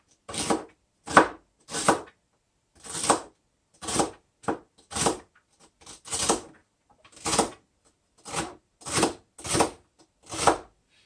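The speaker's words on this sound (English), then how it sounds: "I'm all about rough chopping something" Knife roughly chopping vegetables on a board in uneven bursts of sharp, close thunks, a few quick strokes at a time with short pauses between.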